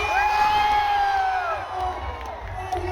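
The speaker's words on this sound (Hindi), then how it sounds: "जोरदार तालियां" A cricket crowd on a university campus cheers and whoops loudly and steadily for about three seconds, a dense roar of many voices with shrill shouts rising above it, fading slightly toward the end.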